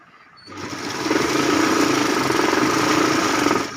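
A sewing machine stitches a two-inch border on a quilt made from old saris, starting after a brief quiet moment and then running as a loud, steady, rapid whirr to the end.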